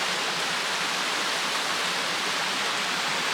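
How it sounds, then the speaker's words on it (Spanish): Steady, loud rush of a waterfall on the Ruta de la fuente del Señor near Andilla, a continuous broadband roar of falling water heard up close with no pauses or voices. "aquí a pie de cascada, mirad qué bonita es, toda para abajo"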